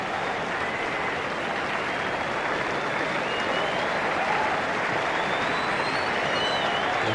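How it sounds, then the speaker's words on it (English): A large cricket crowd applauding at the Sydney Cricket Ground during a 1992-93 match against Australia: a steady, even wash of distant clapping from tens of thousands of spectators that carries on without pause. "Appreciative of the Australians' efforts after Border has won the toss and batted"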